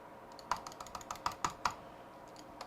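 Rapid clicks from a computer mouse during a Razer gaming setup, a quick irregular run of sharp, close taps, with a few louder, faint isolated clicks trailing off.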